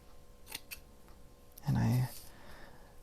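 Scissors snip through paper in a crafting session, a few light clicks and one longer, louder cutting stroke, close and clear against a quiet room hum.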